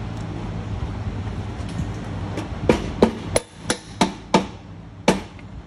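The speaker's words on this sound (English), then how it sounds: "use your mallet and then hammer it in through the other side" A series of sharp mallet blows hammering an axle into a Harley-Davidson motorcycle's front wheel, about seven strikes at uneven intervals, close and loud over a low background hum.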